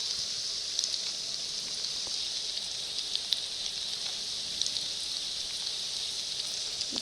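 Steady rain falls in the Book Heaven video game, a constant even hiss scattered with faint, sparse drop ticks and no voices.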